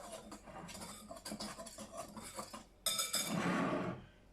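A utensil stirs dry ingredients with baking powder in a bowl, quick clinking and scraping at a steady pace, then a louder, denser burst of mixing near the end.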